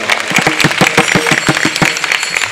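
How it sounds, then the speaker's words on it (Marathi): Audience clapping at a Marathi kirtan led by Rameshwar Maharaj Dhakne, a dense, steady burst of many hands applauding together close by for a couple of seconds. "जोरदार टाळ्या वाजवा."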